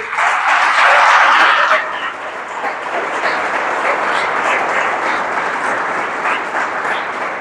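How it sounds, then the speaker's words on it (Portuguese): A church congregation claps during a Portuguese-language service, starting with a loud, dense burst that eases into steady, sustained clapping filling the room. "Uma salva de palmas para o Senhor."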